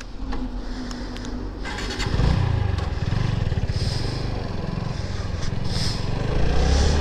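A motorcycle engine, heard from the rider's position, runs roughly at first and then surges into a loud, steady rising drone as the bike speeds up toward high speed.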